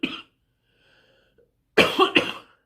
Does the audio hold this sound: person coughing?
yes